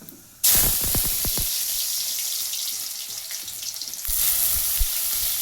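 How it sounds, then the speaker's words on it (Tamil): Soaked chana dal tipped into hot oil with mustard seeds in a kadai, bursting into a loud, continuous close sizzle with crackling pops and stirring, the frying surging again near the end. "கடலைப்பருப்பு போட்டு 2 வரை வறுத்துக்கலாம்"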